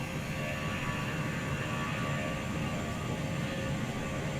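A Boeing 757 jet in the Transport Fever 2 video game roars at full throttle on its takeoff run, giving a steady, dense engine rumble that holds at an even level with no pauses.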